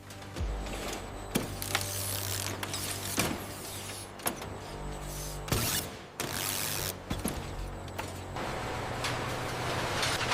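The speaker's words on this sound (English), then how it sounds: "A hydraulic press compacts the entire coil before strapping. Straps are mechanically locked, resulting in a compacted cylinder." Industrial hydraulic press compacting and strapping a steel wire coil in a recycling mill: a steady low mechanical hum with repeated sharp clanks and hisses at irregular intervals, loud and close, no talk.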